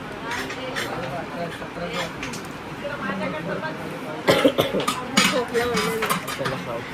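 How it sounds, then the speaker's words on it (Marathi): A person coughs and clears their throat in a few sharp, close bursts in a busy shop setting, with people talking in the background. "आधीच खोकला झालाय"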